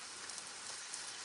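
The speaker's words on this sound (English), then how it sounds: "I wonder how long this rain is gonna go for here." Steady rain pours down outside a garage, a dense, even hiss of drops on surfaces with no pauses, fairly faint and with no voices over it.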